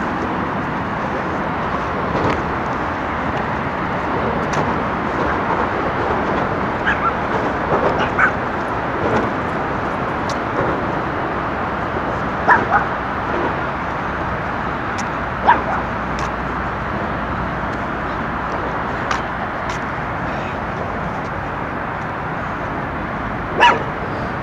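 A dog barks outdoors along a riverside walk in a park, a handful of sharp, separate barks spread through steady outdoor ambience, at moderate distance.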